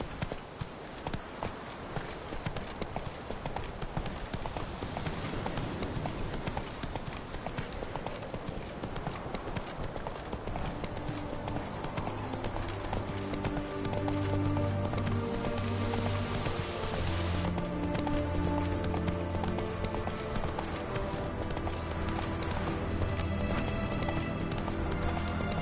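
A horse galloping in a video game on PS4, with a quick, rhythmic hoof clatter that runs steadily throughout, a whinny partway through, and faint game music and ambience underneath.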